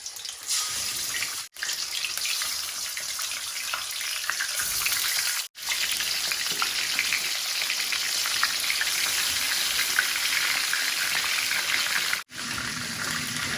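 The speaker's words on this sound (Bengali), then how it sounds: "তোমার চিকেনগুলা একটু সুন্দর হইয়া গোল্ডেন ব্রাউনের মতন ফ্রাই করলাম" Six chicken pieces frying until golden brown for a kasundi chicken roast give a strong, continuous hissing sizzle. It breaks off three times for an instant, with no talk.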